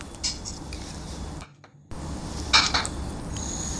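Boiled eggs moved into another bowl while making Tamil egg masala curry, giving a few light ceramic or metal clinks and knocks over a steady kitchen hum.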